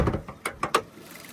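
A Maruti Suzuki Baleno 2019 facelift has its bonnet released and opened: a few sharp mechanical clicks and clunks from the latch and hood, close and fairly quiet, with no talk.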